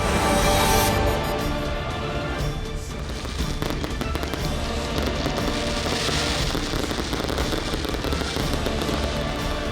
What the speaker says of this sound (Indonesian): Kemeriahan malam pergantian tahun diwarnai dengan pesta kembang api